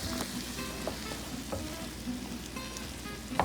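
Century Tuna and broccoli seasoned with salt and pepper sizzle steadily in a hot pan while being stirred, with a few sharper scraping clicks over the continuous frying hiss, no talking.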